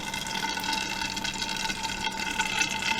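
Boiled water mixed with priming sugar pours steadily into a batch of home-brewed beer, a continuous close-up splashing and gushing stream of liquid that runs unbroken throughout.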